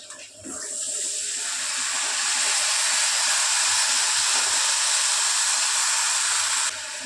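Tamarind water is poured through a kitchen sieve, making a steady, close rushing splash that swells and holds, then drops off abruptly near the end.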